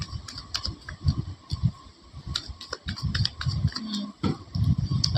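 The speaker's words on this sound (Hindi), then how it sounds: "Last shuffle." Tarot cards being shuffled by hand, a run of quick crisp clicks and riffling taps close by, irregular and fairly loud, with no voices.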